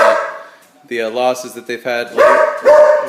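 Someone talks while a pet dog nearby barks loudly several times, the barks overlapping and following his speech.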